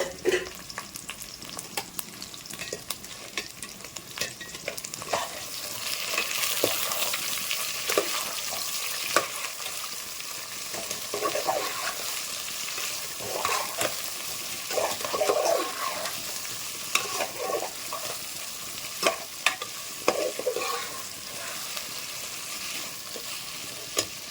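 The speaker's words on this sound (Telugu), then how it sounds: "మనం కట్ చేసి పెట్టిన క్యారెట్ బీనీస్ ఇవన్నీ యాడ్ చేస్తున్నాం అండ్ టమోటాస్ ఇవి ఒకసారి మంచిగా ఫ్రై చేసుకోవాలి" Carrots, beans and tomatoes frying in a pan for vegetable pulao, with a steady close sizzle and repeated scraping stirs of a spoon, no talking.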